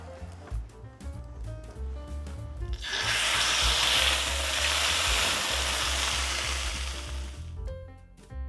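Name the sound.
sizzling of teriyaki frying in a pan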